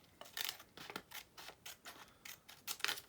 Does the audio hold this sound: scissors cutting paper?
yes